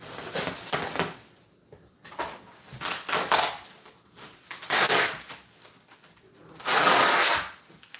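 Spray paint hisses from an aerosol can in several separate bursts of varying length, close and loud, as a hologram projection screen for a haunted house is painted.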